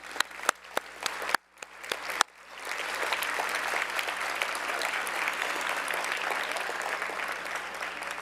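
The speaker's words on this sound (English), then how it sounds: "We want to give you a round of applause." Audience applauding students and teachers standing at a conference, a few isolated sharp claps first, then a sudden swell into steady, full applause from a large room that carries on evenly.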